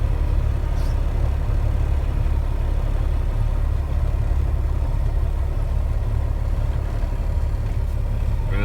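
An old semi truck rolls along in first gear at idle speed, its engine giving a constant low rumbling drone that stays steady and loud for the whole stretch, with no talking.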